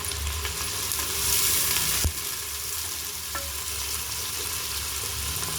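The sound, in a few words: large onions frying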